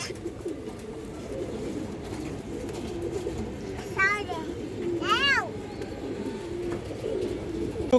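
Pigeons kept for sale, including a female, coo and call with a couple of brief chirping bursts over a steady murmur of background voices and nearby activity.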